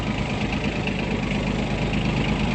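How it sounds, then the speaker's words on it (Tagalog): A farm tractor engine runs steadily, a dense continuous rumble with a knocking, vibrating texture, close and loud with no pauses or voices. "papadaanan natin ng traktora ulit yung garden sa labas"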